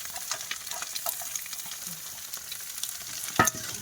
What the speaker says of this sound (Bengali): এই যে আলু আর পেঁয়াজ সব একসঙ্গে দিয়ে দেবো, এবার ডিমের সাথে আবার করে ভাজবো